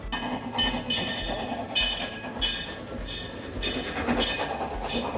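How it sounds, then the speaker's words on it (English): A train rolls past at Silver Dollar City's Harvest Fest, its wheels giving a rhythmic clickety-clack over rail joints with a steady rumble, fairly close and loud, with no talk. "There goes the train."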